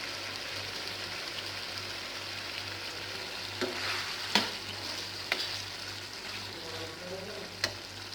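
Eggplant pieces cooking with yogurt in a pan over low heat give a steady soft sizzle, with a few sharp stirring clicks and scrapes scattered through; no one speaks.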